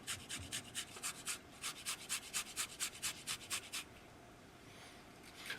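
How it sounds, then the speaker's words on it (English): Garlic grated on a rasp grater, a run of rapid rhythmic scraping strokes up close and fairly soft, stopping to quiet near the end. "I love using these rasp graters for this"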